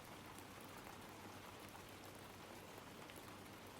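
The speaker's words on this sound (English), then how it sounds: "I really like the sounds of rain, as is evident by the stream right now" Steady rain falling on a surface, a dense, even patter that stays constant and fairly soft for a few seconds with no voices.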